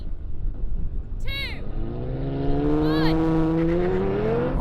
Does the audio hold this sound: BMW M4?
yes